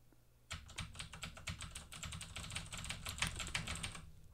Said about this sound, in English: that's me clicking on my keyboard.